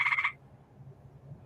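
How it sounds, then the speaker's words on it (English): A short burst of rapid high-pitched tree frog chirps, close and clear, then stops, leaving quiet background hiss. "You hear that chirping? That is a frog, a tree frog."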